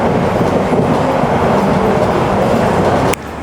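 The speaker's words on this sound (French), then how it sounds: "on a aussi également le funiculaire juste derrière moi." Steady rumbling roll of a funicular railway in Istanbul, loud and continuous with a low mechanical drone and faint track clatter, cutting off sharply near the end.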